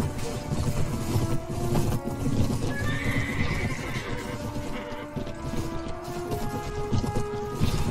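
Horses in the medieval combat game Mount and Blade Warband, heard during a cavalry charge in a castle siege, neigh and whinny repeatedly over rapid galloping hoofbeats, loud and busy throughout.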